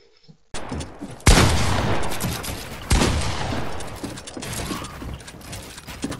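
Video game gunfire arriving as two loud, sharp bursts of rapid shots, each with a dense crackling tail that trails off, over a quiet start.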